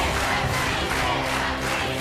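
A large crowd in Petrópolis cheers and shouts loudly and continuously in a dense roar of voices, with no single speaker standing out.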